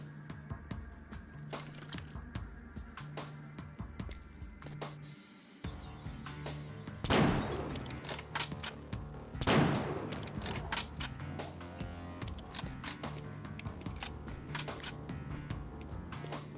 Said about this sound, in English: This machine gun really is this game's pistol.